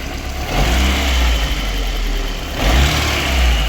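A VAZ 2108 injector car engine runs in a garage during maintenance, a loud close rumbling idle that rises in two revving swells, with no voices.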